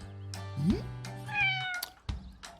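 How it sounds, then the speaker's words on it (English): A kitten meows a few times, high and wavering, close by with a low hum in the background. "that sounds like a kitten"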